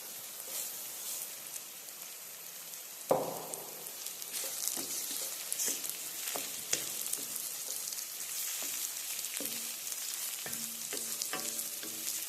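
Rice poured into a hot pan with dissolved tomato paste for eggplant risotto, a sudden sizzling rush followed by steady frying and occasional stirring scrapes, no talking.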